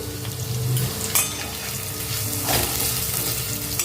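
Sabudana khichdi sautéing in a pan with curry leaves and salt, a steady close frying sizzle with occasional stirring scrapes and a utensil clink, no talking.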